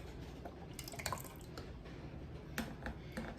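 Spaghetti sauce poured into a measuring cup in a home kitchen, soft wet drips and glugs with a few louder plops, quiet and close.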